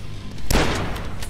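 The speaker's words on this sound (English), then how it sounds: "I have one hunting rifle round left, and it just went into one of those welders" A single hunting rifle shot in the retro shooter DUSK: one sharp, loud blast cutting through the game's low rumbling ambience, with a short decaying tail afterward.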